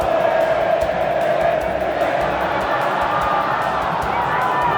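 Corinthians supporters in a football stadium during a Copa do Brasil match against Grêmio, a dense continuous crowd roar with chanting and shouts, steady and loud throughout, with voices mixed in.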